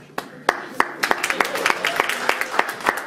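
Sparse clapping from a small audience at a social finance talk rises into a short round of applause, the claps sharp and distinct over a quiet room.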